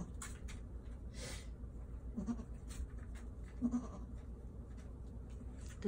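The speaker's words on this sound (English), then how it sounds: "We just had a baby goat" A newborn baby goat on a small farm, kept in a back room, gives a few faint, short bleats against quiet room noise, with soft rustling in between.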